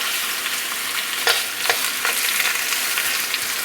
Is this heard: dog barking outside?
no